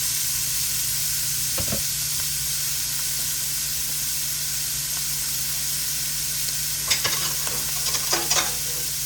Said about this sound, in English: Got some olive oil and butter in the pan, and I'm making it nice and hot